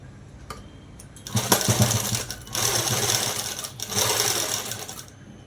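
Sewing machine stitching a soft cloth dress for small children, close and loud, running in two or three bursts of rapid rattling stitches with short pauses between.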